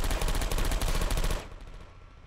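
A Portal 2 turret fires a rapid, steady stream of gunfire for over a second, loud and close, then cuts off into a fading low rumble.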